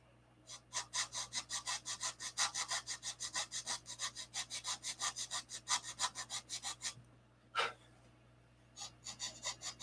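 Sanding wood by hand with 80-grit sandpaper on a new hand plane, a steady run of quick rasping strokes near and clear, pausing briefly before resuming.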